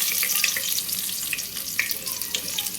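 Sliced onion and two bay leaves drop into hot oil in a pot and set off a steady, bright crackling sizzle with scattered pops, close and fairly loud, with no voices.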